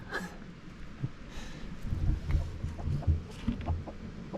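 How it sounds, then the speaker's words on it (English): Chickens clucking close by on a farm beside a Branson 3015h compact tractor during its 50-hour service, with soft irregular clucks and low rustling noises around them. "Chickens came to see what's going on."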